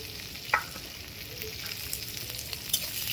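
Onion, garlic and green chilli fry quietly in a pan, a soft continuous sizzle with a couple of sharp clicks from the utensil.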